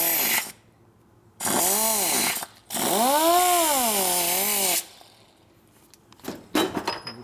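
Power sander or grinder working a hardened, heat-treated 1972 Harley Sportster Ironhead clutch part, with two loud bursts of high whine whose pitch sags and rises under load, separated by quiet gaps and ending in light clinks.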